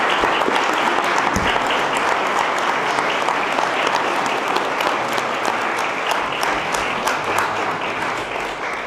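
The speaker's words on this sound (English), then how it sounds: "I'd like to ask for a big round of applause for everyone at the panel" Loud, sustained applause from a crowd at an election candidate panel, continuous clapping that stays strong before easing slightly at the end.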